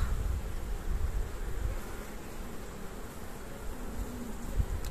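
Honeybees hum steadily around a hive in an apiary while bringing in nectar, a dense continuous buzzing close by and moderately loud for the whole stretch with no talk.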